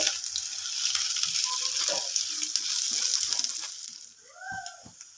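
Ginger and onion frying and being stirred in a pan for brinjal bharta, a steady close sizzle with occasional utensil scrapes, fading slightly near the end.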